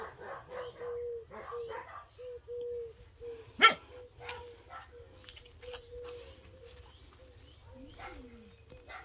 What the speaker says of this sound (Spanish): ¿Quién ladra ahí? Que se vaya.